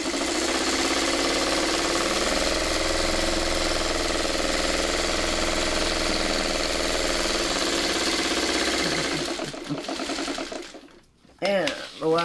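A sewing machine runs steadily, stitching the final log strip onto a pineapple-pattern quilt block with a continuous mechanical whir close by, then stops and gives way to handling noises and brief rustling.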